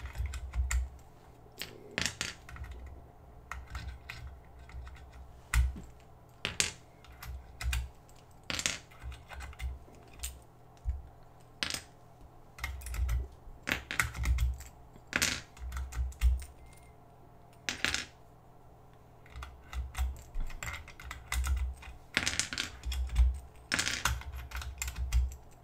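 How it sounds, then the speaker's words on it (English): Keycaps are pried off a mechanical keyboard one by one, giving sharp plastic clicks and clacks in irregular bursts with short pauses between, close and clear, with no talking. "So let's go ahead and get these keys off of here."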